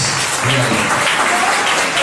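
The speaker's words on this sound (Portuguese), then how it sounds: "podem bater para Jesus uma salva de palmas" A church congregation applauds at a Pentecostal service, dense loud clapping filling the room continuously, with a faint voice briefly audible beneath it.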